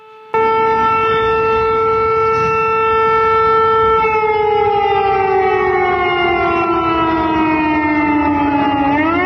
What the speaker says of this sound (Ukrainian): Уже ближче до обіду сирена пролунала у багатьох областях.